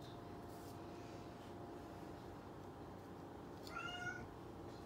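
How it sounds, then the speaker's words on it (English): A single domestic cat gives one short, faint meow near the end, set against a steady low hum of room noise. "That's my cat."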